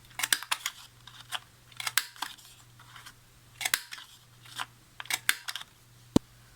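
Sharp paper corner punch rounding the corners of card for a pop-up bouquet album, a series of crisp clicks and snaps in irregular clusters, close and clear against a quiet room with a faint steady hum.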